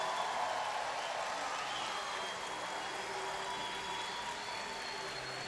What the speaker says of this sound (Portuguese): Eu queria que esses aplausos de vocês se estendessem para essa banda